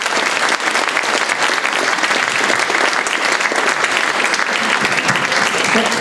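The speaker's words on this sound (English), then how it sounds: "Another round of applause for our speaker." An audience applauding at the end of an evening talk on cattle ranching at Highlands Ranch, dense steady clapping filling the room without a break.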